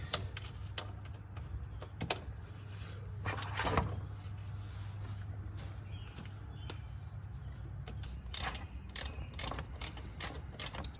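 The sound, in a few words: socket wrench loosening Jeep oil drain plug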